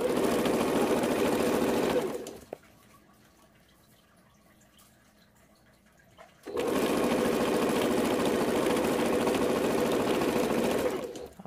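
A sewing machine stitching a quarter-inch seam for a jelly roll race quilt, running in a loud, steady whir that stops for about four seconds before resuming.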